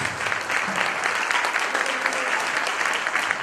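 An audience at a ballet performance applauds steadily, a dense sustained clapping of many hands heard close and fairly loud throughout.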